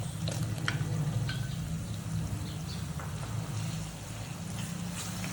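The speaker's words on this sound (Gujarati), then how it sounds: "આ સ્ટેજ ઉપર આપણે ઝીણા કટ કરેલા ટમેટા એડ કરીશું" Finely chopped tomatoes go into onions frying for a rajma curry, bringing a steady, moderate sizzle with a few soft pops and spatters, continuous and without speech.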